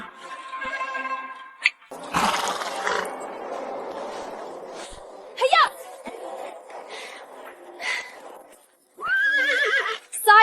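Horse in a period drama setting, a whinny rising among clip-clop, outdoor bustle and other animal calls, with a louder, sharper neigh near the end.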